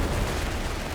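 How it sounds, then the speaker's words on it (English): Dense gunfire crackles through a Company of Heroes 3 2v2 battle, a brief, loud, continuous burst of shots with no pauses. "Few shots in there."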